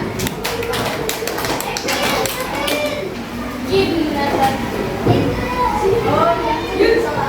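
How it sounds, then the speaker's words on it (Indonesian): Students in a classroom clap for a kinesthetic learning group, a scattered burst of claps at the start that fades as children's chatter and voices take over. "Beri tepuk tangan"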